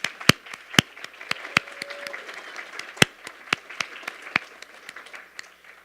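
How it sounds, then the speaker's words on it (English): Scattered applause from a lecture audience, made of sparse, distinct claps rather than a dense roar, fading out over a few seconds. "Let's give them a round of applause."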